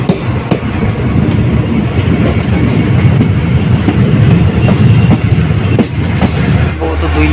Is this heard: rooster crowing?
no